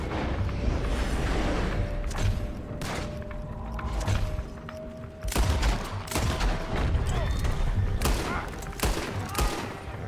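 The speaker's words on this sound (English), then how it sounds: "Shoot that bastard up." Repeated gunfire in the Red Dead Redemption video game, with bursts of shots and thuds over a busy background that keeps running throughout, and faint voices underneath at times.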